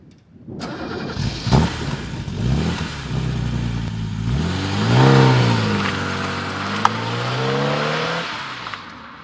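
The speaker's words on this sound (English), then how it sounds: "the party piece of the 635 is that incredible engine" A BMW M635CSI with its M88 straight-six engine fires up and revs, climbing and falling through several strong throttle blips before settling into a steady drive, loud and close with no talk.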